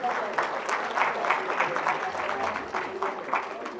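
Audience at a Varanasi healthcare company's 18th anniversary event clapping together, a moderately loud, pulsing round of applause with bursts rising and falling, and a voice speaking faintly beneath it.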